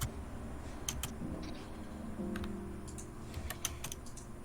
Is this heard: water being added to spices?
no